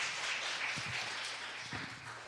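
A church congregation claps in a soft, dense patter for a couple of seconds, the applause faint and fading slightly toward the end.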